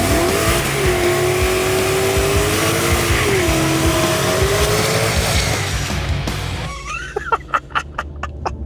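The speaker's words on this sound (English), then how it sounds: "That was a good burnout" A V8 Mercedes AMG car at a drag strip holds a loud, sustained high-revving roar with tire squeal for about six seconds. It then cuts to a quieter, choppy idle with sharp pops and bursts.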